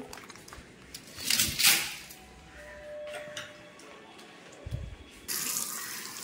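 A milk packet being rinsed under a running kitchen tap, with bursts of gushing water and splashing that stop and start, close and fairly loud.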